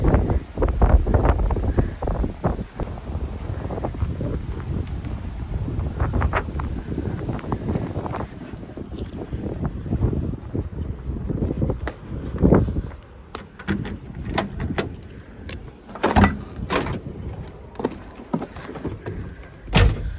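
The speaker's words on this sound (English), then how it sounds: "before the wind totally ruins my clip" Outdoor wind buffets the microphone beside an old caboose in a small rail town, coming in uneven rough gusts of low rumble and sharp thumps across the whole stretch, with no talking.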